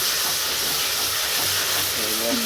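Chicken with tomato paste frying in a pan, a loud steady hissing sizzle filling the whole clip, close up, with a brief voice near the end.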